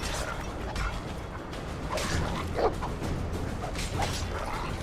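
A dog barks during combat in the Game of Thrones video game, a few faint, brief barks half-buried under a steady, noisy wash of battle sound.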